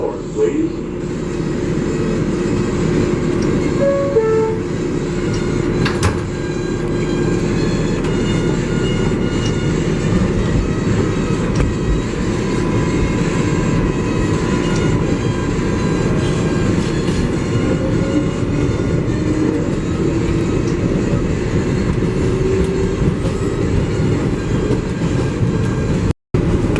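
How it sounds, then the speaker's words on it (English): An MTA 7 local subway train bound for Flushing Main Street rumbles steadily along the track at close range, with continuous wheel and motor noise and faint clacking. A voice announcement speaks over the ride noise. "This is a Flushing Main Street bound 7 local train."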